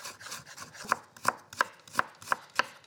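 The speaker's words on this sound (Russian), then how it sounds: "Нарезаю это все дело соломкой." A knife cuts vegetables into thin strips on a cutting board, six crisp evenly spaced taps, close and quiet with no talking.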